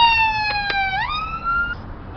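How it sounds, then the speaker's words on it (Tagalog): A wailing ambulance siren sweeps between pitches as it passes by at Al Bidda Park in Doha, Qatar, loud and close, with no talking. "na dumadaan. Ayan o, ambulansya."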